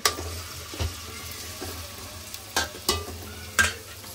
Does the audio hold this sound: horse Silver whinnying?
no